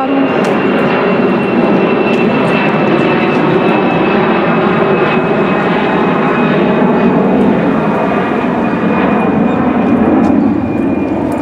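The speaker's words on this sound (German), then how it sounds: "Laut hier. Autos, Flugzeuge," A fixed-wing airplane passes overhead near a school with road traffic around, a loud steady roaring drone that holds for several seconds with a faint high whine above it and no speech.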